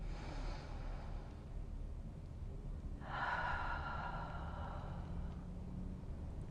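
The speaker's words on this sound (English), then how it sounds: "And a nice deep breath." A deep breath drawn in during a standing stretch, a soft airy inhale close to the mic over a steady background hum.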